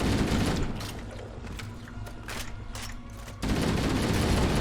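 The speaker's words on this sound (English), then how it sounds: "Oh, yeah, the shotgun. Take that." Shotgun blasts in Halo: The Master Chief Collection, heavy booming shots bracketing a short quieter stretch of rattling gunfire and mechanical clatter, loud and close.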